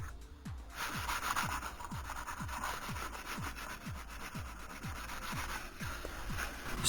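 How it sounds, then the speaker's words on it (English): Rhythmic strokes of sandpaper and sanding blocks rub across a 3D-printed Darth Vader helmet, a steady back-and-forth rasp repeating about twice a second, close and alone with no talk. "I'm using different sandpaper and sanding blocks, just different things to see, you know, which one works the best"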